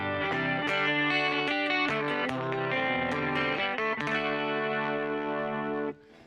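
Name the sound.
cheap electric guitar played through effects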